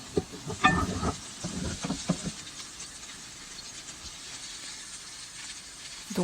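Small onions and kimchi frying in a pan, with a soft continuous sizzle and hiss and scattered stirring clatter near the start, moderately faint, with background noise throughout.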